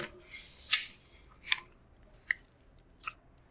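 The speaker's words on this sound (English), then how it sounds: "Chewing. This is the first step of digestion." Chewing food, four separate crisp crunching bites spaced evenly, close and fairly quiet over a soft background with no talking.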